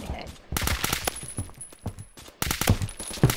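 Gunfire in a Roblox shooter video game, a burst of rapid shots and clattering impacts with brief pauses, loud and close, with some talk mixed in.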